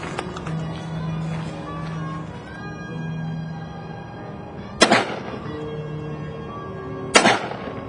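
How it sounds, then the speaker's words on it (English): A Taurus .357 Magnum revolver fires two loud, sharp shots several seconds apart at a shooting range, each a sudden blast with a short echoing tail over a low background hum. "Taurus 357 Magnum, 2 rounds downrange."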